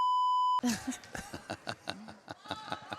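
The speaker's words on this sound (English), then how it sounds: "You have your hand on the beep" A sustained electronic beep tone sounds at a high school volleyball match, Decorah at Saint Ansgar, before cutting off into loud crowd chatter and laughter in the gym.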